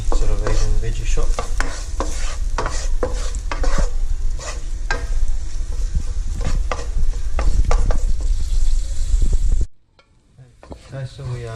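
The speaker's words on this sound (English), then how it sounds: "Okay, so we frying the garlic first." Garlic fries in a pan for Malaysian village cooking, with a steady loud sizzle and repeated scraping stirs that cut off suddenly near the end, leaving a quieter hiss. No one speaks.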